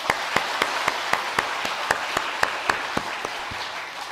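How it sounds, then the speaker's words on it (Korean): Church congregation applauding together at a Korean revival service, a steady wash of many hands with rhythmic unison claps punching through about every quarter second, fairly close and full, with no talk over it. "우리 다시 한번 살아계신 하나님께 큰 영광의 박수 올려드립니다."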